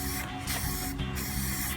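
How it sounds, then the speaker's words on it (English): Paint spray can with a trigger sprayer, fired in three quick, loud hissing bursts with brief gaps between them, close up and with no talking. "I always spray the inside first"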